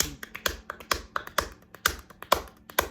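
Hands slap a fast traditional gospel rhythm on a player's legs, with sharp, close, evenly driving taps and accented hits over a faint low thump, with no voice.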